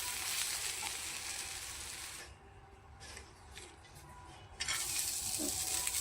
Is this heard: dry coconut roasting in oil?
yes